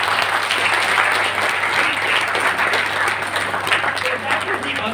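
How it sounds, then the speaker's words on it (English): Audience applause at a university entrepreneurship training session, steady and dense for the full stretch, with a low constant hum underneath and some murmuring voices mixed in. "Can we clap once for that?"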